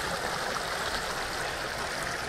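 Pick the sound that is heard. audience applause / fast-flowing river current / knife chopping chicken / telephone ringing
fast-flowing river current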